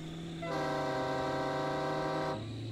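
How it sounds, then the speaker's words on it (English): A truck's train horn blares in Farming Simulator 22, one loud sustained multi-tone blast lasting about two seconds over a steady engine drone. "I got train horns on this boy."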